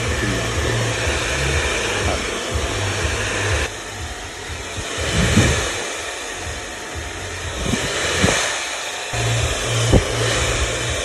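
A handheld hair dryer runs steadily at close range during a long-layer haircut blow-dry, a constant airy roar with brief dips and swells as it moves around the hair.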